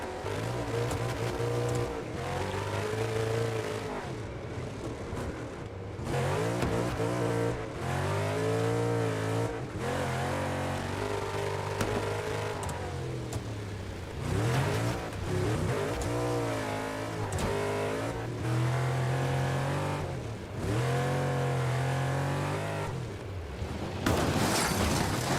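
A car engine revs up and down repeatedly in a video game, loud and close, with brief lulls between bursts of acceleration; the engine sounds unhealthy.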